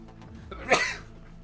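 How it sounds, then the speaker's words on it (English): A single sudden sneeze bursts out near the middle, loud and close, over a quiet background with a faint low hum while a Horizon Forbidden West game session plays. "I never know when the sneezes are coming."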